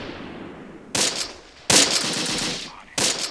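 Gunfire in a Close Combat World War II tank battle, with three loud bursts of automatic fire at about one-second intervals over a low rumbling battlefield background.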